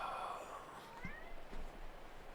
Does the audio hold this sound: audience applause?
no